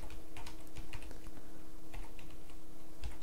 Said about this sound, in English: Let's try and type it again.